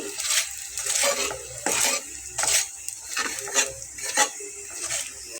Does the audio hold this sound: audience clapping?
no